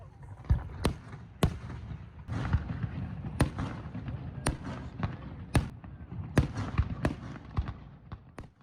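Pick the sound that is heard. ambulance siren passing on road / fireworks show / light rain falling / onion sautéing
fireworks show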